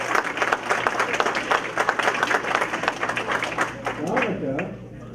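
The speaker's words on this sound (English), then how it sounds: "let's give her a great big round of applause for being our Teacher of the Year" Clapping from attendees at a county board of education meeting honoring a Teacher of the Year, a moderate, fairly close burst that thins toward the end as voices and a low hum come through.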